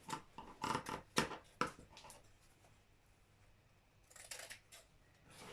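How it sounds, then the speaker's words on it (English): Scissors cut out the neckline of a fabric bodice for an A-line gown, giving a cluster of quiet, crisp snips at the start and another short burst of cutting near the end, with a hush in between. "So for the front, we need to cut out the neckline"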